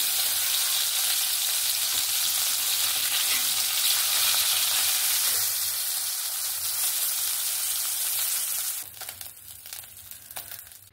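Hilsa fish sizzling and crackling in hot oil, a loud continuous fry that suddenly drops quieter near the end, leaving scattered pops and spits.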